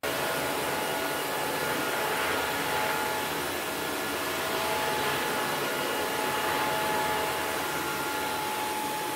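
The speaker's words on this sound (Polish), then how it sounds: "To jeszcze posłuchajcie sobie," A Hygse Akva cordless wet-dry vacuum cleaner runs close by with a constant loud whir and a thin high whine, unchanging for several seconds with no talking.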